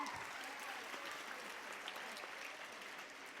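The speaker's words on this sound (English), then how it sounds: "Parents and creative students, please clap." Steady applause from a crowd of parents and students at a high school annual day, dense clapping that holds at an even level throughout without pause.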